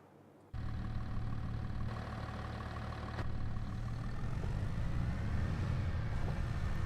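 A Riker's tractor engine in Farming Simulator 22 starts up and settles into a steady low idle, moderately close, with a slight rise in revs toward the end.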